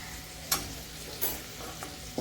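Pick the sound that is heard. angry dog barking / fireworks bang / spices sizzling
spices sizzling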